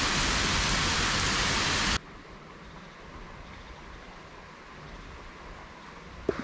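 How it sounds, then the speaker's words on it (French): Heavy rain pours down on a river bank, a loud, dense hiss that stops abruptly after two seconds, leaving a quiet outdoor background and a brief knock near the end. "Là il se met à pleuvoir de ouf."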